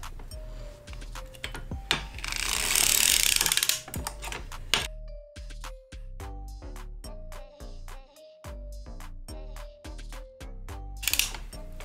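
A 60-stitch circular sock knitting machine is cranked while working a heel, giving steady rhythmic ratcheting clicks and ticks with a faint hum beneath.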